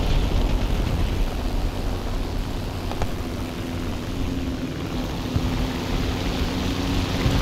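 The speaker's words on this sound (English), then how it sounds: "I hear a plane. I hear it." A propeller airplane drones overhead in War Thunder as a BT-7 tank rushes forward, a steady low engine roar that holds for several seconds, fairly loud and continuous, with no voices over it.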